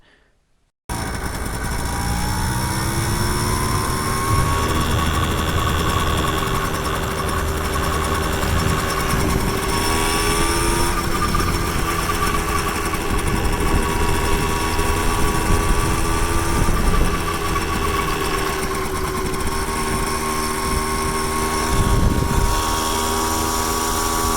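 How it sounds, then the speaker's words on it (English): A Honda Express NC50 moped fitted with a 60cc kit runs steadily down a street, its small two-stroke engine buzzing in a continuous high-pitched drone with slight pitch shifts, close and loud throughout, no talking. "here's just a quick clip from that same day of me running the bike down the street"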